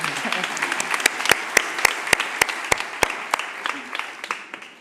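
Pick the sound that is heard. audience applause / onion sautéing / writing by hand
audience applause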